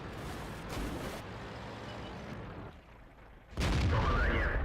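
A tank's main gun fires a premium round in World of Tanks during a T-44-85 battle, one loud booming report near the end following a stretch of rumbling engine and background battle noise.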